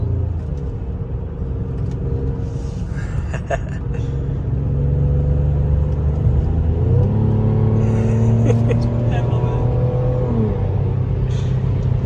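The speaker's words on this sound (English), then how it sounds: "When you really get on the throttle, you get the exhaust crackles and pops" A Mercedes-AMG GLE43 engine drones steadily under acceleration in sport mode, shifting pitch as it revs through gears, with faint crackling pops from the exhaust scattered over the drive.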